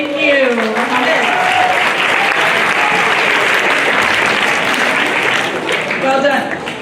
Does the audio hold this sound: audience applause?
yes